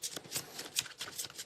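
A deck of playing cards being shuffled at close range, a quick run of crisp riffling bursts repeating in an uneven rhythm, with no voices.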